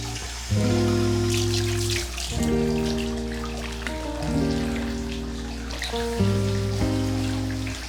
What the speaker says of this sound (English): It's custom to take a shower and clean yourself off before going into the onsen